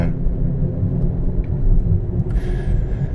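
Road noise inside a Honda Fit 4 e:HEV on the Tokyo expressway, a steady low rumble and tire roar with a brief whine near the end.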